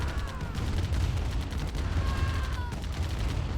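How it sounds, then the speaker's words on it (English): Tanks fire on single units and artillery during a real-time strategy game match, a dense stream of rapid gunfire and blasts under a commentator's voice. "BLoser microing his tanks here to take out single units, focusing on the Arty in the back"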